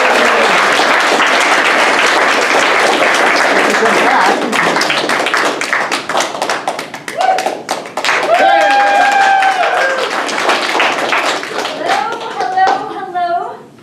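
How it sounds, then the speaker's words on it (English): An improv comedy audience applauds loudly, dense clapping filling the first several seconds, then thinning out as a voice begins speaking over the fading claps. "So let's give her a round of applause for the"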